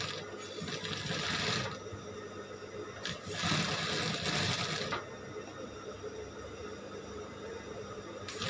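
Sewing machine stitching a fabric hem runs in steady whirring bursts, with two louder, faster spells of stitching and a quieter mechanical hum between them. No talking is heard.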